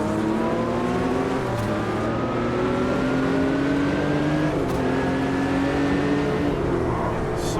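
A yellow Porsche 911 engine revs hard in the racing game Automobilista 2, steady and loud throughout, with rising and falling pitch as it climbs through the revs and shifts gears.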